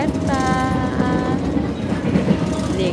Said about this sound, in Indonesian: Kita lagi mau balik kampung, naik kereta.